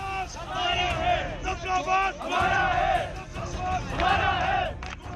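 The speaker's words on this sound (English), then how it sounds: "have been shouting slogans urging Pakistan to roll back the decision of building of these mega" Protesters at a torch rally in Muzaffarabad opposing mega dams on the Neelam Jhelum River shout slogans in loud, rhythmic group chants, with bursts of crowd voices rising and falling over a steady background hubbub.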